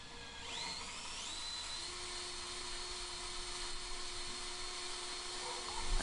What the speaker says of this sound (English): I've been impressed with this little cordless drill I bought.